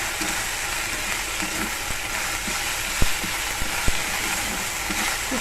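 Ginger and garlic paste sizzles with lightly fried onions in a clay pot, a continuous steady frying hiss with a few sharp clicks of a utensil stirring.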